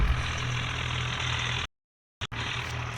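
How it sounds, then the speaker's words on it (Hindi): Tractor engine in a video game, a steady low drone with a strong low hum, cut off by a sudden gap of near silence and then resuming. "तो अपने हम ट्रैक्टर को लेके चलते हैं।"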